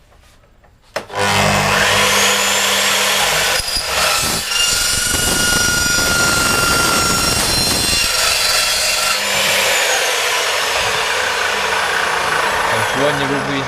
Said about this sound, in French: niveau bruit, ça fait pas plus qu'une tronçonneuse. Et après, niveau étincelle, ça reste quand même très raisonnable.